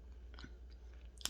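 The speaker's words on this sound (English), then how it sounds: "crunch or the squeak on this." Crunchy chewing at close range, faint and intimate, with a few soft bites and one sharper crackling crunch near the end.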